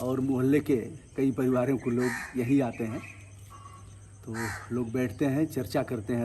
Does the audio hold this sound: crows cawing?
yes